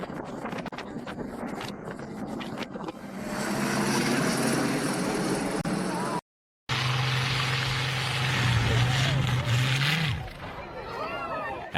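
A helicopter airlifting injured cows from high mountain pastures drones loudly with a rising and falling engine pitch, interrupted by a brief gap, amid wind noise and a voice talking.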